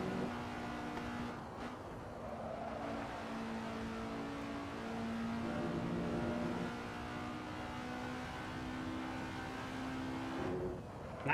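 Race cars from the sim racing game Assetto Corsa, lightly modded, drone and rev steadily through a live online league race, engine tones rising and falling continuously with no talk over them.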